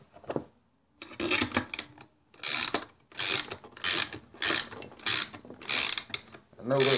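A hand ratchet tightens nuts on a hydrogen generator. Close, crisp clicking comes in short repeated bursts, one for each stroke, with brief pauses between them.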